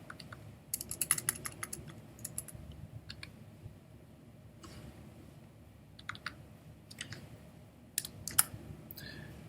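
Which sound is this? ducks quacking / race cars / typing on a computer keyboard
typing on a computer keyboard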